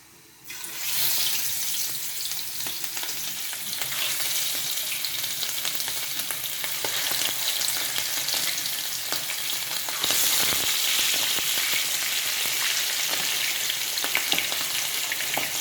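Ilish fish frying in hot oil in a home kitchen, a loud, steady, dense sizzle that jumps in at once and holds through the whole stretch with no talk.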